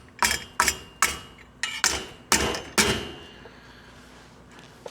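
An old dead blow hammer knocks a part into place during a budget boat upgrade, striking six solid, close thuds in an uneven rhythm before the work goes quiet.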